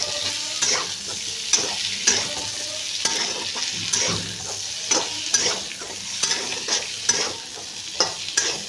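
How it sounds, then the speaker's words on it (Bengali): Soybeans with spices being stirred and fried in a pan over a low flame: a steady, soft sizzle broken by regular scraping strokes of a spoon, close and clear, with no talking. "এগুলো সব দিয়ে আমি ভালো করে মিক্স করে নেব।"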